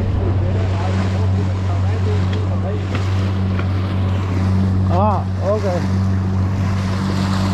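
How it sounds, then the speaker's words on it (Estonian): Small two-stroke outboard motor pushing a fishing boat on open water, a steady low droning hum running throughout with wind and water wash, while a person briefly speaks over it. "Panime küll väikse mootori peale, aga see kahetaktiline."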